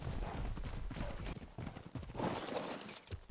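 Horse hooves clip-clop steadily in the survival video game Ark, a loud, busy run of hoofbeats over dense game noise with no talk.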